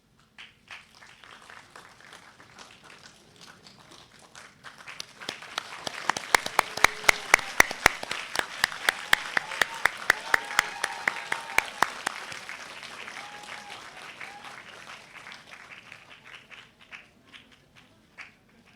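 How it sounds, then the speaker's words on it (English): Loud audience applause fills a graduation ceremony hall at Asia Pacific University, steady dense clapping that swells to a peak and then slowly tapers off, with no talking over it. "give them a heartiest applause"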